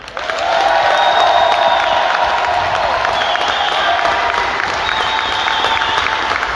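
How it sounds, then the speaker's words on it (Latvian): A crowd at a homecoming celebration in Jelgava for an Olympic champion gives sustained, loud applause and cheering for the parents, building quickly and holding steady throughout. "šobrīd, protams, vislielākās aplausu un ovācijas ir vecākiem"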